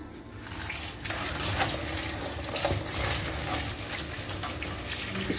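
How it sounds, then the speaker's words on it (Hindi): Chopped fresh fenugreek leaves are rinsed in a sieve under a running kitchen tap, a continuous close splash and rush of water with faint rustling as the leaves are rubbed, and no voices. "अब इसको हम धोएंगे, छलनी में डाल के धो लेंगे।"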